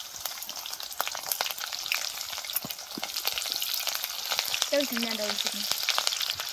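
Chopped green chillies and curry leaves fry in a pan with mustard seeds, giving a steady, close sizzle and spatter, with a brief scrape of stirring near the end.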